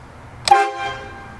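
A single short blast from a train horn fitted to a pickup truck, sounded once in front of a house: a sudden loud multi-tone honk lasting under half a second, then fading.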